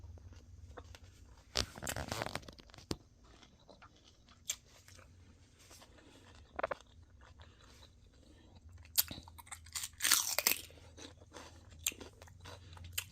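Raw celery and broccoli dipped in ranch being chewed close to the mouth, with scattered crisp crunches and bites over a quiet background, a few louder bursts of crunching.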